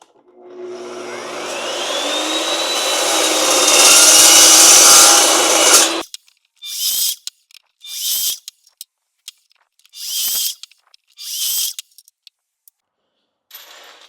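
Cast metal gate spears being cut with a loud power saw or cutoff tool, a long steady grinding whine building for about six seconds, followed by several short bursts of cutting.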